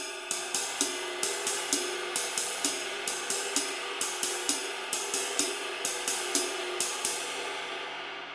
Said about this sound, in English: So here is exercise 1 at 110 BPM, moving between the bell and the ride.